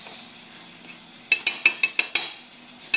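Onions sizzle in a pan for tofu sisig, a soft frying hiss broken by a quick series of sharp metal utensil scrapes and clinks as they are stirred, close by.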